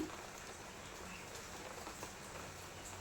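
Soft, steady rain patters continuously on a surface, fairly quiet and even throughout with no voices.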